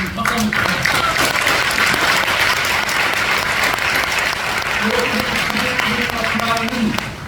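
Loud, sustained applause from a church congregation during a special lecture on the Pentecostal movement's influence on Korean churches, filling the whole stretch with dense clapping and some crowd voices mixed in.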